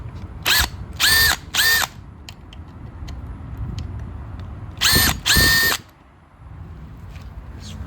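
Bursts from a power drill or impact driver loosening the front brake caliper pinch bolts on a Greenger G3s, with four loud whirring runs, two early and two late, over a low background hum.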